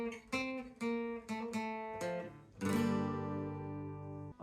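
Acoustic guitar playing the intro riff of a song: several plucked notes ring in sequence, then a fuller strummed chord sustains; close, fairly quiet and alone.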